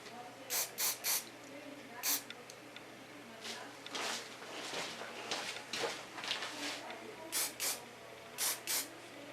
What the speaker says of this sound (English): And I use ultra soft hairspray. It's from Goldwell.